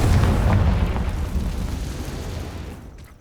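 Confringo explosion spell in the video game Hogwarts Legacy: one heavy, booming blast at the start, followed by a rumbling tail that slowly fades out.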